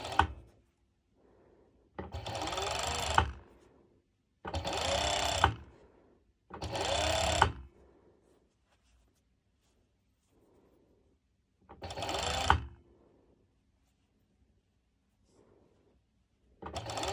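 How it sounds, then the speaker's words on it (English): A serger runs in four or five separate bursts while stitching mesh and lycra for a sporty top, each a steady motor whir of a second or so with quiet pauses between, close and clear with no talking. "we're going to serge it exactly the same way we did before"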